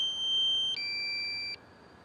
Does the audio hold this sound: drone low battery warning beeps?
yes